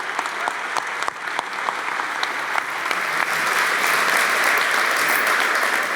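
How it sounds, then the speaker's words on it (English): A large audience at a benefit gala applauds loudly and continuously, building into a full, thick ovation over several seconds with no voices on top. "Give yourselves one last big round of applause."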